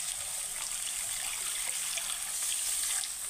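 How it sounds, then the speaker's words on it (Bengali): Water being poured into a pan where katla fish is cooking, a steady bright trickling gush running evenly for a few seconds without any speech. "এখন আমি এটাতে জল দিয়ে দেবো।"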